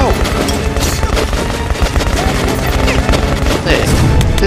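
A frag grenade and gunfire in the video game Metro: Last Night come as dense, continuous bursts of shots and booms, loud and close, mixed with game sounds throughout.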